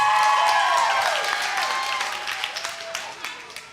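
An audience claps for students at an evening camp gathering, a loud burst of crowd applause that slowly thins and fades.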